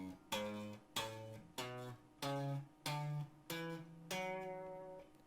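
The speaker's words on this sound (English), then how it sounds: "So this is how your minor scale is going to look, 3 notes per string." Guitar picking a minor scale three notes per string, with clean individual notes plucked at an even, unhurried pace, each ringing briefly before the next, about seven notes, alone without talk.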